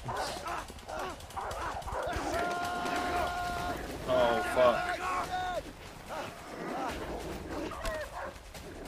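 Dogs barking and yipping in the video game A Way Out, a scrambling mix of barks and whimpers beneath panicked shouting from players, busiest in the middle of the stretch.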